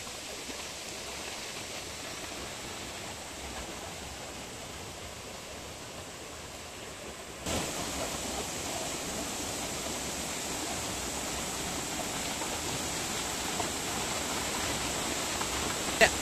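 Water rushes over rocks at a small waterfall fed from a forest near Salem, a steady broadband hiss that grows louder and nearer midway and continues unbroken.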